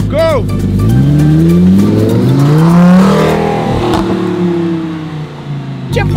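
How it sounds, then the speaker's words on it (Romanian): A Lamborghini revs hard and accelerates at speed, its loud engine climbing steadily in pitch through the gears, close up with a brief tire squeal, while people talk over it. "Ia să vedem cât de rapid este Lamborghini comparativ cu Lambo"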